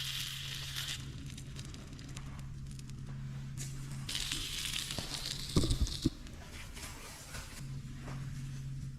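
Pork jowl bacon frying on a griddle over a campfire outdoors, with a steady crackling sizzle throughout, a few sharper pops and knocks midway, and a low hum underneath.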